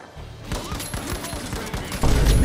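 Rapid gunfire from an LH1 battle rifle in a video game, a quick run of loud repeated shots close up, ending in a heavier burst.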